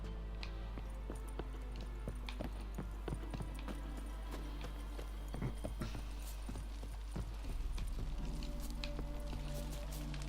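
Horse hooves in The Witcher 3 beat a continuous, irregular clip-clop over a constant low hum, moderately close, with a more intense stretch toward the end.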